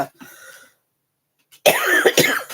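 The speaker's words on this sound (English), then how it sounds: "I do have a bit of a cough." A short cough, then after a brief silence a louder burst of harsh coughing, close and unaccompanied.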